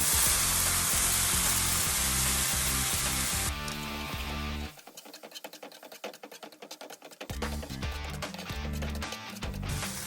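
Tomato puree sizzles and fries loudly in a pan, the bright hiss cutting off abruptly partway through before returning as a quieter crackle.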